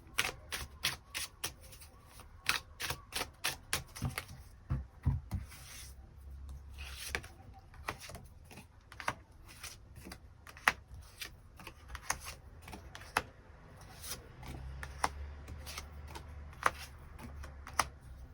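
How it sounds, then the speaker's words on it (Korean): Tarot cards are shuffled again and again, each pass a quick papery burst of riffling snaps, soft and close, repeating in irregular clusters over a long stretch. "추가 카드 뽑아보도록 하겠습니다"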